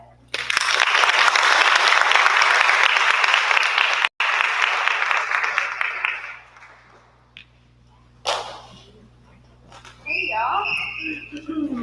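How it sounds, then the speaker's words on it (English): An audience at a school civics fair launch applauds loudly and steadily for several seconds, then the clapping fades out. A single short burst follows, and a voice then speaks. "Please give a round of applause for Ms."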